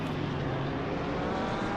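Race cars roar past in a Gran Turismo race in Belgium, a dense, loud engine drone with broadband rush and no voices.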